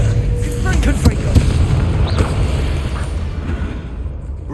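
Confringo blasting spell explosions in Hogwarts Legacy, several booming bursts with low rumble and crackling debris, close and loud, fading slightly toward the end.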